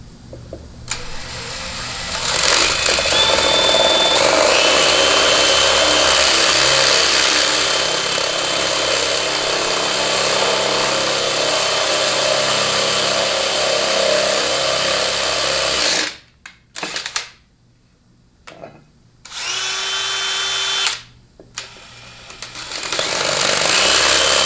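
A spinning power tool works a bushing out of a 200-4R automatic transmission drum, a steady loud whir running about sixteen seconds before cutting in and out in short bursts near the end.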